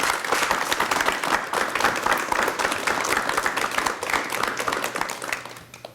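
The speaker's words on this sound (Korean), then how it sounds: "우리 이 선생님을 여러분 박수로 맞이해 주시면 대단히 고맙겠습니다." A studio audience on a 1990 KBS talk show applauds to welcome Lee Kyung-chan, the master who holds the Munbaeju traditional liquor craft. The clapping is dense and lively and tapers off near the end.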